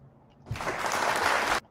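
A burst of applause sound effect, dense clapping and cheering that starts abruptly, holds steady and loud for about a second, then cuts off sharply.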